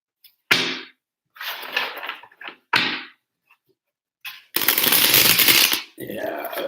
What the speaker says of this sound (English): That shuffle did not feel right.